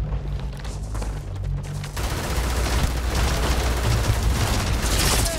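Rapid gunfire from a firefight in the video game Starfield, a dense sustained burst of shots with booming low rumble, loud and continuous throughout.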